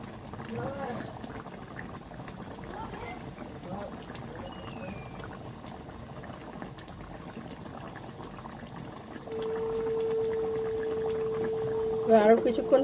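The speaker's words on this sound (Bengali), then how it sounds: "আরও কিছুক্ষণ ফুটবে।" Butter chicken curry simmering in a pan gives a steady, close bubbling hiss; a clear tone rises out of it near the end.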